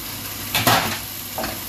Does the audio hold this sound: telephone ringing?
no